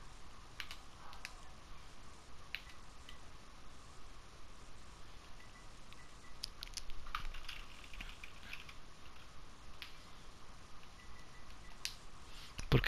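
Quiet, steady typing on a computer keyboard, a run of soft, irregular key clicks at close range continuing throughout with no talking.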